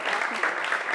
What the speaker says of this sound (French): Ah bah ouais, il faut applaudir alors.